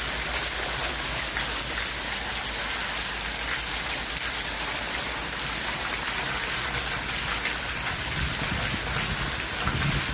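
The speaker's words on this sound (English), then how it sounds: "Raining, guys, Jamaica." Heavy, steady rain pours down continuously in Jamaica, a dense hiss of drops hitting surfaces with no letup.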